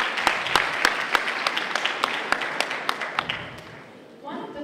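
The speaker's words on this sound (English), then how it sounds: "give yourself a round of applause" A conference audience at an economic summit leadership talk applauds, with sharp individual claps standing out over a steady patter that thins gradually, then a voice resumes near the end.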